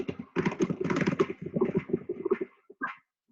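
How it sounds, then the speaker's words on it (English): Quick bursts of typing on a computer keyboard, close and distinct, with fast clustered keystrokes broken by short pauses and a last few isolated taps. "somebody's typing."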